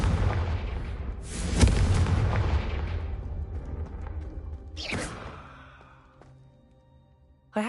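A spell detonates in Hogwarts Legacy with a heavy booming blast, its rumble slowly decaying, followed by a second sharp explosive crack around the middle and a sudden burst at the very end.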